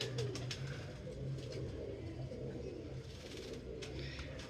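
Pigeons cooing on a Karachi rooftop, soft, low repeated coos under faint background noise with light flutters and clicks.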